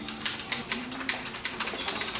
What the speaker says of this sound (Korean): 제가 오늘 소개해드릴 키보드는 바로 기계식 키보드인데요